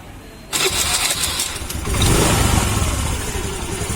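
A Honda Activa 3G scooter engine with a carburettor problem cranks and catches, then settles into a steady, buzzing idle that rises slightly before holding even.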